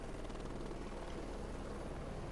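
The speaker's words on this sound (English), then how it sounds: "this is the most maneuverable helicopter on this map, late war Vietnam" A helicopter flies in the Heliborne video game on a late-war Vietnam map, its dense rotor chop and engine roar steady and close throughout with no talk.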